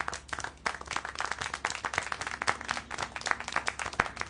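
Clapping from the video game Syberia: The World Before, a dense, steady run of sharp hand claps that fills the whole stretch at a moderate, close level with no talk over it.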